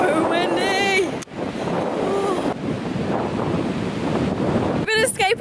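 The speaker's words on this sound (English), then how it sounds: "So windy!" Strong wind blows along the coast of South Australia's Eyre Peninsula, a steady broadband roar buffeting the microphone throughout, with voices briefly heard at the start and end.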